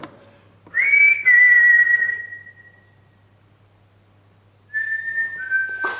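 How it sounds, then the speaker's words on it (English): Two sustained whistled tones, a long steady one and then a second that rises at the end, loud and close, with near silence between them, inside the former HMP Shrewsbury prison. "Can you make another whistling sound?"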